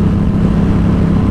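A Yamaha XSR700 motorcycle fitted with a Two Brothers SR1 exhaust runs close and loud, its engine giving a steady, dense low rumble without a break for the whole short stretch.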